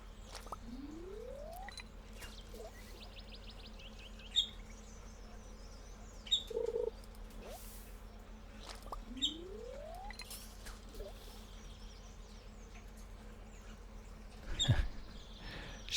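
A small pet bird sings quietly indoors, giving faint, sparse chirps and short tweets over a low background hum, with occasional soft handling noises.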